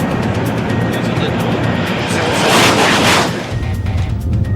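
A TGV V150 high-speed train passes at world-record speed with a roaring, aircraft-like rush that swells to a loud peak near the middle and then eases off, under a steady broadband din.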